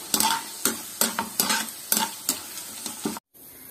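Garlic and dried red chillies fry in hot oil for a Kerala snack mixture, with a steady sizzle broken by about ten rhythmic scrapes of a spoon stirring the pan, then a sudden brief silence.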